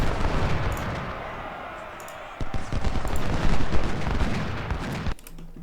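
Massed troops firing muskets and artillery in the Ultimate General: Civil War video game at Gettysburg, a dense continuous rumble of distant volleys that swells midway and cuts off near the end.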